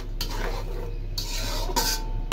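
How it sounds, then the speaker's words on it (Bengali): A pasty mix of onion, ginger, garlic and cumin being sautéed in oil over a low gas flame, heard as a few short scraping stirs of a utensil against the pot with faint sizzling. "এখন তেলের মধ্যে এই মশলাটা একটু কষানো হবে আর কি।"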